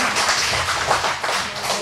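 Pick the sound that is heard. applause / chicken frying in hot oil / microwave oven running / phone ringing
applause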